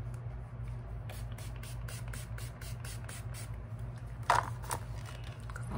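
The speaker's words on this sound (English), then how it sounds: "I'm just gonna use this dewy spray as primer." A dewy facial setting spray is sprayed in a series of quick hissing bursts, followed by one louder, longer spritz near the end, against a quiet background hum.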